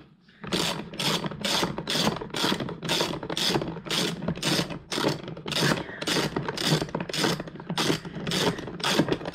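A ratchet wrench clicks in fast, even bursts while backing out a screw holding a quad battery bracket, about a dozen close, loud strokes.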